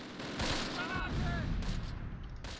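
Mortar barrage in the Close Combat wartime strategy game, with quiet, distant rumbling blasts and crackling bursts forming a continuous low wash of explosions.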